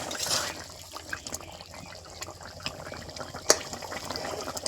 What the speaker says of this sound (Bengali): তো ঝোল ভালো রকম ফুটে গেছে।